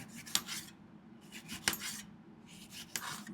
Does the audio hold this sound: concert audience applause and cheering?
no